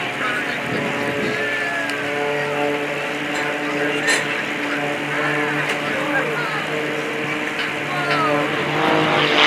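Aerobatic engine of a Northern Stars Aeroteam stunt plane flying a barnstormer loop with a snap roll at the 2023 Westmoreland County Airshow, a steady droning roar with shifting pitch, moderately distant, under wind and light crowd noise.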